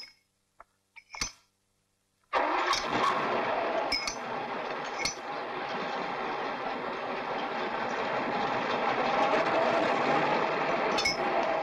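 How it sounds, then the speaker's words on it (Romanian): A motor starts with a sharp burst and then runs as a steady, loud, continuous drone with faint clicks and clanks, after a few brief knocks in near silence. "pornește motorul"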